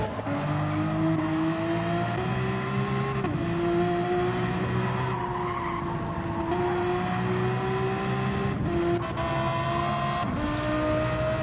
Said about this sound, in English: the car speeds up